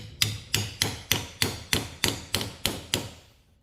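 A flathead screwdriver is struck to work a nail out of soft wood, giving nine evenly spaced sharp metallic taps, close and fairly loud, each ringing briefly before the next.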